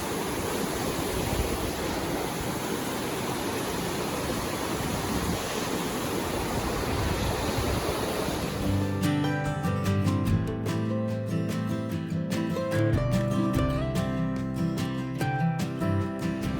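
Susette Falls on the West Coast Trail roars as a dense, steady rush of falling water for about nine seconds before music takes over.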